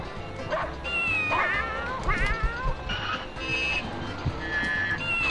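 Cats meow in the video game 101 Dalmatians II: Patch's London Adventure, with several rising, wavering cries scattered over a busy, steady background of game music and effects.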